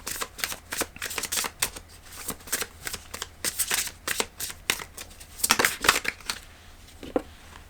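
A deck of oracle cards is shuffled up close, giving a steady run of riffling, flapping card sounds with a few louder slaps near the end and no voices.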